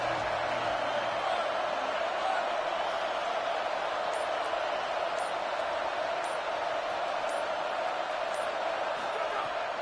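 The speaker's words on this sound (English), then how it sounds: "This crowd bringing an ear-splitting welcome to their visitors." Stadium crowd at a college football game against Utah, roaring loudly in a steady, unbroken wall of noise that holds throughout.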